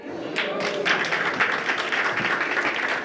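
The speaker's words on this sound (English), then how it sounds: "I was not planning for a clap at that point" Audience applause breaks out at an evening corporate event for young professionals hosted by an investment firm, moderately loud clapping that swells and holds steadily.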